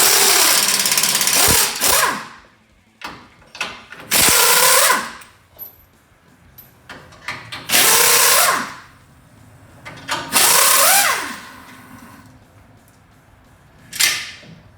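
Power tool working the 15mm nuts on sway bar brackets during a plow mount install, loud close whirring bursts of one to two seconds that rise and fall in pitch, separated by quiet gaps and clanks.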